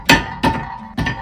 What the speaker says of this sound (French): Je vais prendre un maillet, c'est mieux, c'est normal.